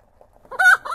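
A human voice imitates a chicken clucking: a brief, loud, nasal squawk rising after a few soft sounds, followed by a shorter second cluck, all within about a second.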